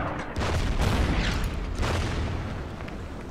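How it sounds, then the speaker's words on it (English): Artillery fire in the wartime strategy game Order of Battle: Blitzkrieg booms in a couple of heavy, rumbling blasts layered over continuous battle noise, loud and dense throughout. "Attack it with artillery."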